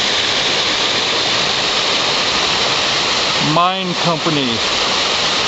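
Creek water rushes steadily through a small grotto in a high-water year, a dense continuous roar like a waterfall; someone speaks briefly partway through over the flow.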